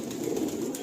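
Pigeons cooing inside a loft cage, a steady low murmur of several birds close by, continuous with no talk.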